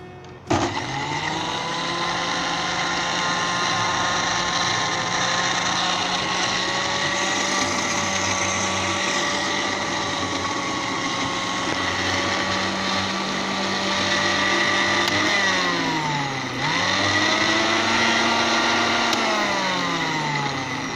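Garlic mayonnaise ingredients spin in a blender with a loud, continuous motor whine. The pitch sags briefly a couple of times as the speed shifts, and the run lasts the whole stretch.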